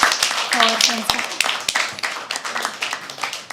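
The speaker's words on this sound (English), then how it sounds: "Have a round of applause for Sanskar." An open mic poetry audience at The Habitat applauds, with scattered close handclaps that thin out over a few seconds while a host speaks over the start.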